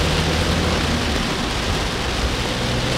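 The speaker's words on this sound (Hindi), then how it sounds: "तो बहुत जोर की बारिश होती" Heavy rain pours down steadily in a dense, loud, unbroken hiss that lasts throughout, with no voices.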